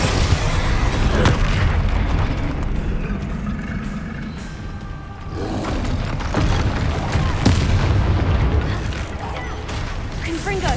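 A Confringo fire spell explodes in Hogwarts Legacy, a loud booming burst set among dense, continuous game combat noise and music, with other thumps and impacts layered throughout.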